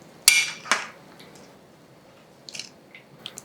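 Chopped eggplant and potato being tossed with salt in a pan for a Maharashtrian vegetable dish: two sharp close clatters of utensil on metal, then fainter soft scrapes and taps.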